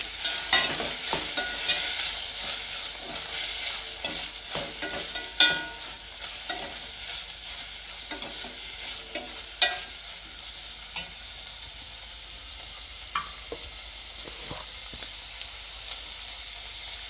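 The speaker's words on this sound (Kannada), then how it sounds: "ಈರುಳ್ಳಿ ಫ್ರೈ ಆದಮೇಲೆ ನಾನು ಅದಕ್ಕೆ ಹೆಚ್ಚಿಟ್ಕೊಂಡಿರುವಂತಹ ಸ್ವಲ್ಪ ಟೊಮೊಟೊ ಹಾಗೆ ಹಸಿ ಕಾಯಿ ತುರಿ ಹಾಗೆ ಸಣ್ಣದಾಗಿ ಕಟ್ ಮಾಡಿ ಇಟ್ಕೊಂಡಿರುವಂತಹ ಕೊತ್ತಂಬರಿ ಸೊಪ್ಪನ್ನು ಹಾಕ್ಕೊಳ್ತಾ ಇದ್ದೀನಿ" Onion fries with tomato, grated coconut and chopped coriander in a pan, giving a continuous bright sizzle up close with frequent scraping and knocking strokes from a stirring spoon.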